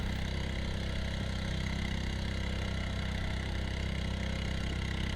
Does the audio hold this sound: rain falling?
no